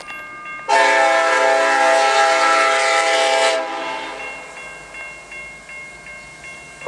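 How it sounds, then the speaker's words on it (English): A Norfolk Southern freight train carrying high and wide loads behind an SD70ACe sounds a loud K5LLA five-chime horn in one long blast lasting about three seconds, followed by fading rumble as it passes. "been chasing this train"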